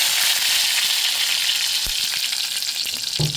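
Garlic sizzles steadily in hot oil as coriander goes in for a Konkani-style prawn and potato curry, a dense close crackle running throughout with a couple of soft knocks near the end.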